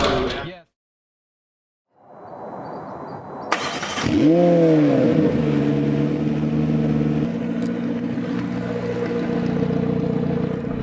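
A 2019 McLaren 720S engine fires up after a brief silence, revving sharply then settling into a loud, steady idle rumble close by.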